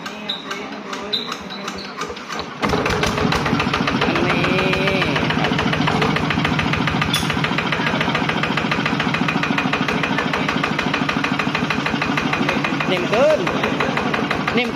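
A ZT155 motorcycle engine starts up after a quieter opening and settles into a loud, steady close-up running note that continues to the end, with speech faintly present over it.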